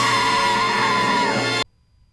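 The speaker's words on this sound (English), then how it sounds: "That was a good scream." A cartoon scream, one sustained high-pitched wail lasting about a second and a half, loud and close, ending abruptly in silence.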